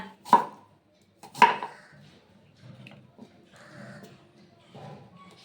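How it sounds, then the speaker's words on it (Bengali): Knife cutting onions into thick pieces, two sharp separate chops about a second apart, close by, followed by quieter clatter and soft speech. "একটু মোটা মোটা করে আমি কেটে নিচ্ছি"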